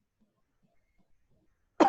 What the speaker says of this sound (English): Sorry, I've got this stupid cough.